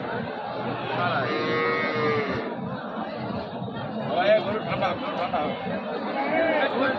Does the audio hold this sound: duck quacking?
no